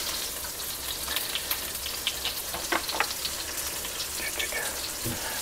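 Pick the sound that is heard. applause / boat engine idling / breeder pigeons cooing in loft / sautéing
sautéing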